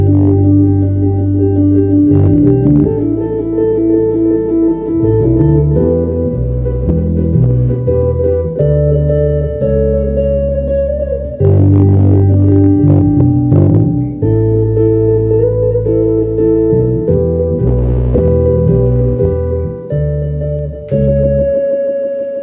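On a Crowhill guitar, two-handed tapping lays a bass line under a melody in a swing tune, with continuous, fairly loud notes that move steadily for over twenty seconds.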